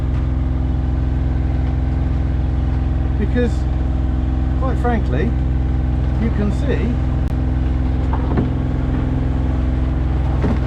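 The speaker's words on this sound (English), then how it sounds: "So we've put the engine on" A sailboat's auxiliary engine runs steadily at sea in light wind and a rough, swelling sea state, a constant low drone throughout with people talking over it.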